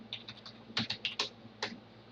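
Several quick keystrokes tap on a computer keyboard in an uneven rhythm, close and clear against a quiet background.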